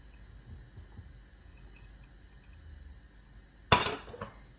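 A single sharp clink and clatter as grated coconut and chutney ingredients go into a steel mixer jar in a home kitchen, brief and fairly close against a low, quiet room hum.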